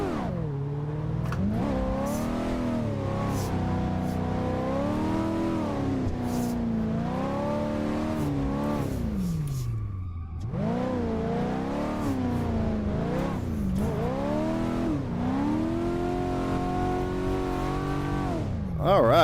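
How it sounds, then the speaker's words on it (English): A 1988 Monte Carlo drift car in Assetto Corsa revs and accelerates repeatedly. The loud engine note climbs and falls through several gear pulls with a brief lift in the middle, and a voice comments now and then. "She accelerates."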